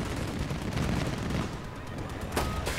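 A helicopter opens fire in Battlefield 2042, a dense, continuous rattle of rapid gunfire with heavy low rumble that holds steady for a few seconds, then gives a sharper crack near the end.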